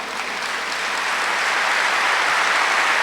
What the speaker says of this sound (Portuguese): Que essas palmas de vocês sejam uma forma de louvor, de agradecimento